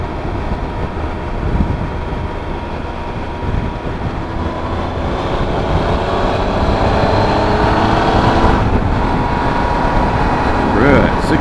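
A 2015 Triumph Tiger Explorer 1200 motorcycle on the move, its engine a steady, loud drone blended with rushing wind that builds slightly over the ride while a rider talks throughout.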